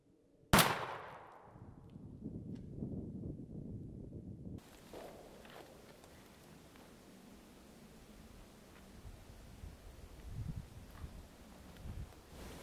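A single loud shot from a 20 gauge Winchester SXP shotgun loaded with #6 turkey load, fired outdoors at a target 35 yards away, cracks sharply and then fades into quiet rustling and soft background noise.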